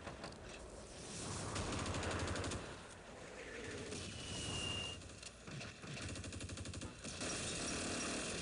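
Machine gun fire in the wartime strategy game Close Combat, set on Crete, rapid rattling bursts repeating over several seconds at moderate distance, with short pauses between volleys and a mechanical background hum.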